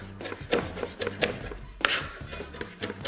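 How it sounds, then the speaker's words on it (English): A knife chopping fresh dill finely on a board, quick irregular taps and scraping strokes close up, with no talking. "when you're chopping up your herbs, you want to make sure that you chop them very fine"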